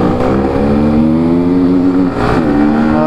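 KTM Duke 200 and Yamaha R15 motorcycles rev together on a city street, loud and close, with rising and falling engine tones stacked over a steady rumble and a brief dip between revs.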